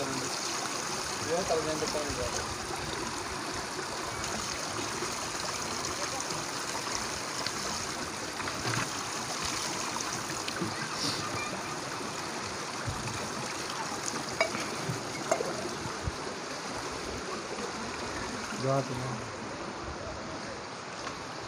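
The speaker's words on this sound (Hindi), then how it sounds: "यहाँ पे साफ़ पानी आ रहा है" Continuous rushing of flowing clear stream water in Kalam valley, Swat, close and steady, with a person talking faintly at times over it.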